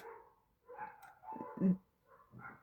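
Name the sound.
dog barking outside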